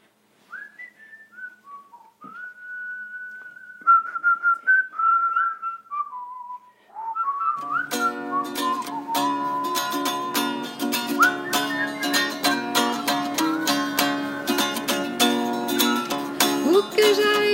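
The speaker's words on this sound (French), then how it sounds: "J'arrête de siffler alors?" A person whistles a clear, wandering melody alone with short pauses between phrases during a live reading performance, then keeps whistling under a dense burst of instrumental accompaniment that comes in partway through.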